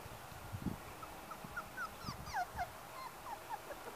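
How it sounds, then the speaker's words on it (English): Puppies whimpering softly, with several brief high whines and yips scattered through the moment alongside a few low thumps, fairly faint and without talk. "How many puppies you got right there?"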